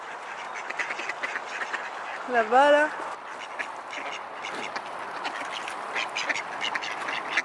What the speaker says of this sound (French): On est entouré de canards.